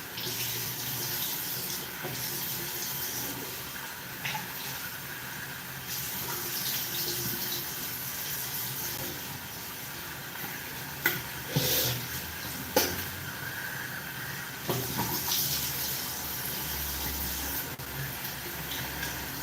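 Tap water runs steadily into a sink while someone washes their face, with a continuous broad rush and a few louder splashes and knocks near the end.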